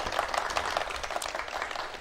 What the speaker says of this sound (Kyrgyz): Балдар бир кол чаап коелу.